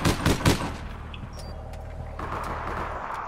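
Gunfire in the online game APB Reloaded, a quick cluster of loud, close shots, then a steady rumbling background of game ambience.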